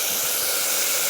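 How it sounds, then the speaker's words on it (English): Guajillo chile sauce hitting a hot pot through a mesh strainer gives a steady, close hissing sizzle that runs unbroken and alone for about a second. "can hear that sizzle when it hits the pot."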